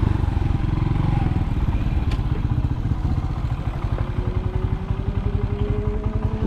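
A motorcycle engine runs close by in a rural Philippine farming area, with a loud, steady chugging pulse and some clattering throughout, and no talking.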